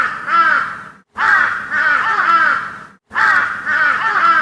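Crows caw loudly and close by in repeated harsh bursts, three long raspy calls separated by brief silences, with no other sound.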